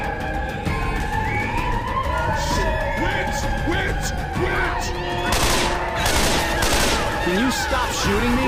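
Sustained gunfire from the video game Left 4 Dead, dense bursts and rapid shots with a siren-like wail throughout, loud and continuous, with voices talking over the action.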